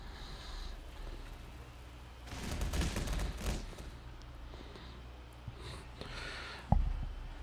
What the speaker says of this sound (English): That is some grenade.